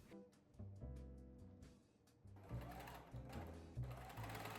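A sewing machine stitches the lining of a wool coat to the collar neckline seam, its needle running in short, steady bursts with brief pauses, close and clear, with no talking.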